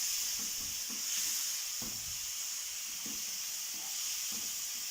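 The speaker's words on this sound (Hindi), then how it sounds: "ये देखिए अब हमारी वेजिटेबल भी अच्छे से फ्राई हो गई है" Vegetables for chicken cheese spring rolls fry in a pan, giving a steady, close sizzling hiss throughout with faint stirring scrapes and clinks underneath.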